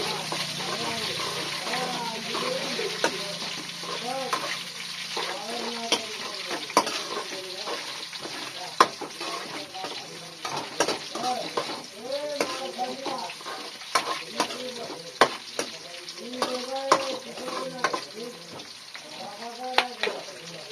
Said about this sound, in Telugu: అయితే లైట్గా ఫ్రై అవుతుంది. సో దీంట్లో అయితే పచ్చిమిరపకాయలు వేస్తున్నాం.